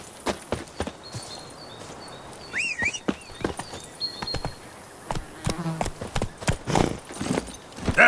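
Geralt's horse Roach clip-clopping in The Witcher 3, close hoofbeats in an uneven walking rhythm, mixed with buzzing insect-like ambience and short sharp game sounds, no talk.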